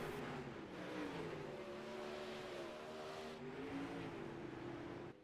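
Winged sprint car engines race at Knoxville Raceway in the iRacing game, a sustained high revving drone with shifting pitch that stays steady and fairly quiet throughout.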